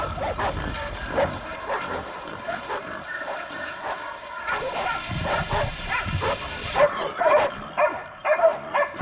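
A pack of hunting dogs barks and yelps while chasing down a wild boar in winter. Repeated barks and whimpers come from near and far over steady outdoor noise.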